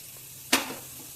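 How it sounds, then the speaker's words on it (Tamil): Cumin seeds hit hot oil during tempering, giving one sudden sharp sizzle burst that fades quickly into a quiet hiss, heard close and alone. "ஜீரகம் தாளிக்கிறேன்."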